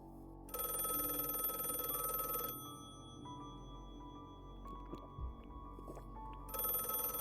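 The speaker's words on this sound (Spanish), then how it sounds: "A las 11 menos cuarto sonó el teléfono y Kinnell se apresuró a contestar." An old-style telephone bell rings in two loud bursts, a long ring at the start and another at the end, separated by a quieter gap with faint room sounds.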